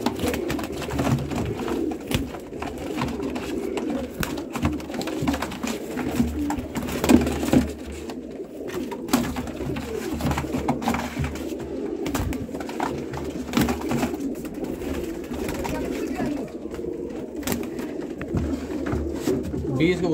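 Pigeons coo in a steady, low, rolling murmur throughout. They include Rampuri and green-necked birds kept for sale in Amritsar, Punjab, and the cooing is heard close by with handling and shuffling noises mixed in.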